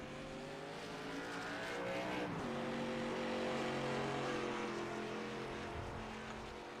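Race cars in an ARCA Series sim race at Chicagoland roar steadily past, with layered engine drones rising and falling as the pack sweeps by at close range, and no talking.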